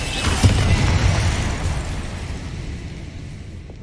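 A fiery Incendio spell blast in Hogwarts Legacy, a loud broadband boom with a sharp burst near the start that rumbles on and slowly fades.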